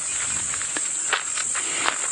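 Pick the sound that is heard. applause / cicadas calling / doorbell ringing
cicadas calling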